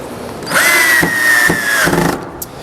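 A power drill drives coated deck screws into a wooden boat seat, giving one close, steady motor whine that holds for over a second and then winds down, with no other sound on top.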